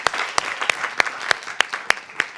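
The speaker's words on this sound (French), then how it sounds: "Je voudrais encore une fois que tout le monde applaudisse pour ces brèves candidates qui sont avec moi." Clapping for contestants at a summer show, several hands clapping in a steady rhythm of sharp, evenly spaced claps against a lighter bed of scattered applause, fairly close.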